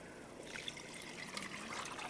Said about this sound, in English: let's go ahead and add one of those containers of water